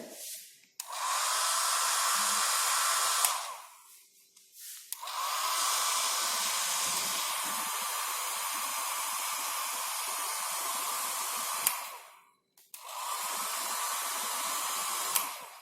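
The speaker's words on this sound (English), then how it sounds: "So then dry it with the dryer." A hair dryer drying a TLC plate blows in three long bursts with short pauses between, a loud steady whoosh with a constant hum.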